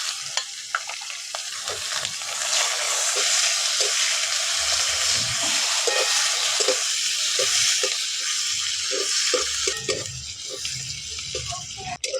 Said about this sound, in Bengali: পেঁয়াজটা আমার লাল লাল করে ভেজে নিয়েছি